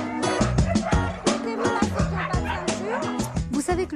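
A pack of excited sled dogs barks, yips and whines nonstop, a dense, overlapping chorus close by with no break.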